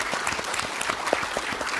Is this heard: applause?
yes